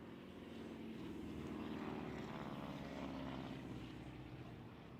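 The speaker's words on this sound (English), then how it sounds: "the Zero that you see going by today, that's a combat veteran" A WWII Zero fighter, a combat veteran, makes a low belly pass at an air show. Its propeller engine drones loud and steady the whole time, swelling slightly as it passes.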